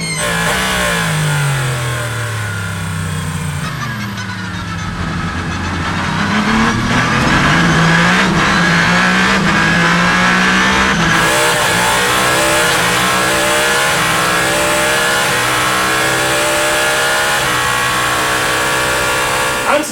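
Endurance race cars including a Toyota prototype on slick tyres roar off the start of the 6 Hours of Spa, a dense, loud, sustained engine drone rising in pitch as the pack accelerates, with a brief commentator voice over it.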